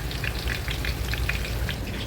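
Tofu cubes frying in hot oil give a steady, close crackling sizzle with scattered bright pops, continuous and fairly loud, no voices.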